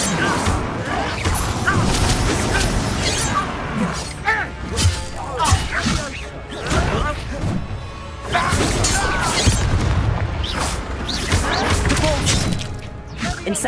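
Incendio fire spell in Hogwarts Legacy combat, a dense run of crashing, thudding magic blasts and whooshes mixed with other spell effects and game sounds, loud and close, with voices shouting spells over it.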